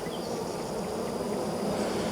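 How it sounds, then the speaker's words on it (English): Dense, continuous buzzing of honeybees swarming close around a beekeeper's head at an open hive, steady and loud throughout with no talk. "I've got all these bees around my head"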